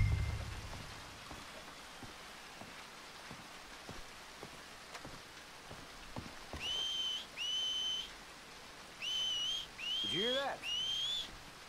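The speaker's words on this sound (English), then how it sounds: "Did someone whistle out here?" Several sharp two-tone whistles from a character in Red Dead Redemption 2, repeated in quick bursts over steady rain pattering on a surface, with faint thunder and some speech nearby.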